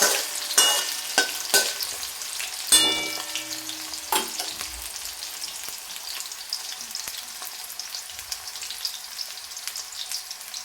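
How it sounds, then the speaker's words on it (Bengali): Potatoes and sweet potatoes fry in a pan with a steady close sizzle, broken by several sharp stirring scrapes and clatters early on before settling into even crackling. "এদিকে আলু আর মিষ্টি আলু ভাজা হতে হতে"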